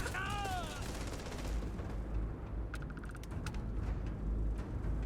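Gunfire in the video game Starfield: a few sharp shots crack over a dense, steady game soundscape with a low rumble, moderately loud throughout.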